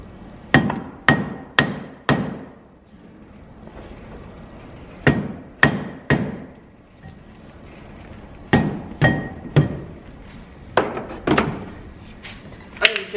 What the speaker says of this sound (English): So I'm gonna get under it, start whacking it, see if we can get it to come free